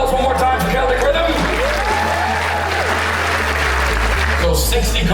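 Applause and some cheering from a large conference audience follow a performance in Dublin, with dense clapping that holds steady for several seconds while a voice talks over it.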